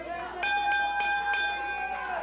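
A wrestling ring bell rings rapidly several times to start a match at a 1995 USWA TV event, with clear metallic clangs ringing out under the commentators' voices.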